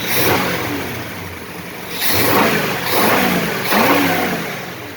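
A 5.7 Hemi V8 with an Indy Mod Man intake manifold revved several times in a row, each rise in pitch swelling loud and close, then settling back between pulls.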